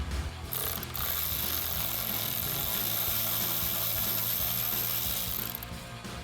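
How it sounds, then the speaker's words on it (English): A hand ratchet works an ignition coil bolt loose on a 2011-2016 Mustang GT, a steady fast clicking that runs for several seconds, close and fairly quiet, with no voices. "grab your ratchet"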